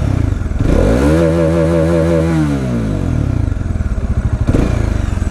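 A Bajaj Dominar 400 motorcycle engine, with a shim noise issue, idles loudly and close by, giving a steady rumbling throb with a brief rise and fall in pitch partway through.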